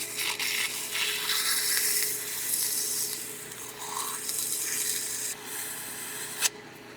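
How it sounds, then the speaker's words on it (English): An engine part for fitting an HEI distributor to an LS motor is hand-sanded with sandpaper, a continuous close, soft rasping rub with a brief knock near the end. "Let me sand on it a little bit. Take that last few thousandths off."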